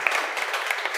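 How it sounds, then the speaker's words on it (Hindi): Audience applause at a celebration for a coaching teacher's selection as a police sub-inspector, steady close clapping filling the whole brief moment. "इन चाहेंगे कि जोरदार ताली होनी चाहिए।"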